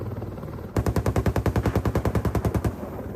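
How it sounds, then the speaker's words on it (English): An AH-64 Apache's M230 30mm chain gun fires one loud, rapid burst of about twenty evenly spaced rounds. The burst starts sharply after a brief low rumble and ends just before the clip does. "The Apache is equipped with an M230 cannon that fires 30mm rounds at an intense rate of 600 to 650 rounds per minute."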